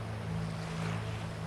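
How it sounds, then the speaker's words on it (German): River water rushes in a steady, unbroken wash with a low hum underneath, set in a children's bedtime audio story. "Man hört noch das Wasser rauschen in den grossen Flüssen, die sich durch das Schlummerland zieht."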